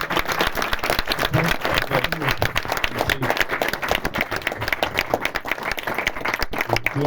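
Cinema audience applauding to welcome Alfonso Cuarón at a screening presentation of Alain Tanner's Dans la ville blanche, a steady, dense clapping from many hands that carries on without pause.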